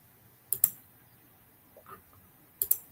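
A typewriter sound effect plays over a livestream as two quick bursts of sharp key clacks about two seconds apart. A faint soft rustle sits between them, and nobody speaks.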